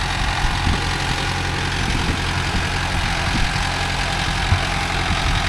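A Mahindra Arjun Novo 605 DI tractor hitched to a 42-blade Gomathi rotavator runs steadily, its dense, loud diesel rumble filling the scene without pause.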